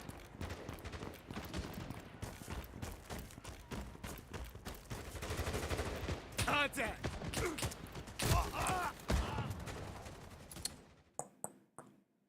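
Sniper rifle fire and gunshots in a Cold War tactical first-person shooter firefight, with repeated sharp cracks and bursts over a constant battle din. A few isolated shots ring out near the end as the noise drops away.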